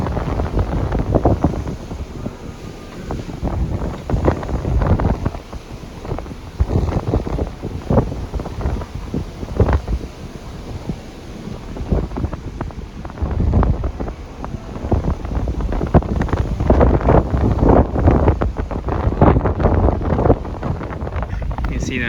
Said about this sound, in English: Pardon the wind, it's very windy